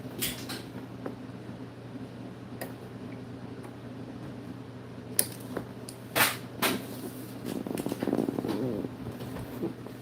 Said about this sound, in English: The couch is so creaky.